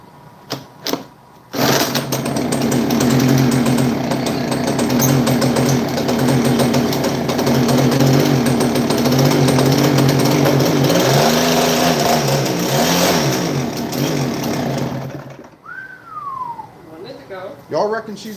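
A Stihl BR430 backpack blower, its exhaust flooded with fuel, cranks and sputters loudly and roughly for a long stretch without catching, then cuts out, followed by faint noises.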